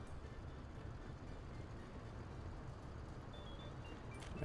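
A train runs steadily in the Soviet-era city-building game Workers & Resources: Soviet Republic, giving a continuous low rumble and rolling wheel noise at moderate distance. Faint tonal squeals come near the end. No one speaks.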